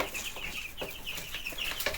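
Several chickens cluck and chatter close by in quick, overlapping calls, a busy flock sound with no talking.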